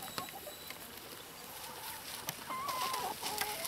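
Free-ranging chickens on an off-grid homestead cluck softly and intermittently, a few faint calls and chirps over quiet outdoor background.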